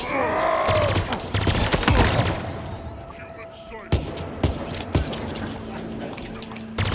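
Grenade explosions in Halo Infinite erupt in a loud, crackling cluster early on, followed by scattered fainter pops and gunfire, with a voice talking in the mix.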